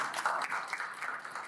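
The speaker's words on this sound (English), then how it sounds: "Can we have applause for Dr." Audience applause for Dr. Sharona at a conference breakout session: a short, faint patter of hand claps from a modest crowd, irregular and brief.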